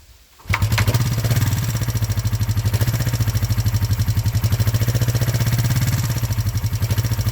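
A Honda motorcycle engine starts up and settles into a steady, loud idle with a rapid, even pulsing rhythm that continues without a break, close by.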